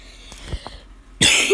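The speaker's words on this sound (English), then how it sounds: "My throat was itchy, so I had to cough." A person with an itchy throat gives a few short, sharp coughs close to the microphone, followed by a burst of louder noise.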